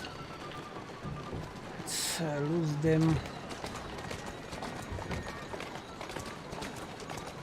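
A horse's hooves clip-clop in a fast, continuous run in a video game, faint and steady beneath a voice speaking briefly over the galloping.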